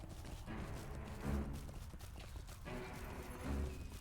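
Horse hooves clip-clopping in Lord of the Rings Online as a rider travels through Rohan, a steady rhythmic trot of close, clear hoofbeats with a couple of heavier thuds and no speech.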